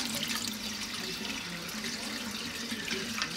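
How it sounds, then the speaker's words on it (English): Tap water runs steadily into and over a small aquarium test sample tube as it is rinsed, a faint continuous splashing trickle with no talk. "I'm gonna rinse this out just a little."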